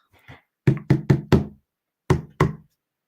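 A bracelet knocks against a hard surface in sharp clicking taps, a quick run of four followed by two more after a pause, loud and close with no talking.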